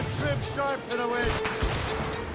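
A naval cannon volley booms from a sailing warship in Assassin's Creed Rogue. A short deep blast sounds under crew voices shouting orders, amid a continuous roar of sea and wind.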